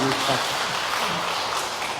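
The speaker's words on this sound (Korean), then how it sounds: "우리 박수 한번" An audience claps after a popular love song is sung, a moderate wash of applause running under a voice speaking over it.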